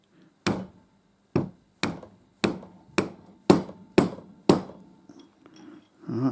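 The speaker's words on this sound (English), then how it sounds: "Right, lead hammer." A handmade lead hammer tapping a Morse taper part of a lathe live center during a rebuild, about eight sharp, evenly spaced close blows with brief ringing between them.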